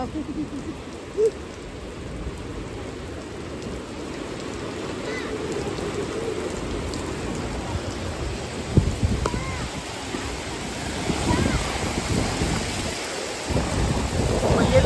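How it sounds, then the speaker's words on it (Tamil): Heavy rain pours steadily during a windy storm while deep thunder rumbles and rolls through the downpour, a loud, dense wash of sound lasting the whole stretch. "எம்மா இடி சவுண்ட பாருங்க"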